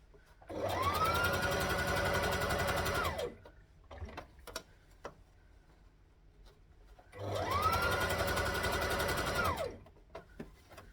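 Sewing machine stitching skirt fabric in two steady bursts of about three seconds each, separated by a quiet pause with faint handling clicks, close by and without talk.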